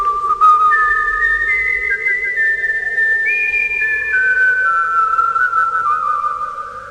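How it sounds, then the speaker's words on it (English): A person whistles a wavering, lilting tune alone, with clear sustained notes that slide up and down through a continuous melodic phrase, close and fairly loud over a soft hum of background noise. "and he whistled."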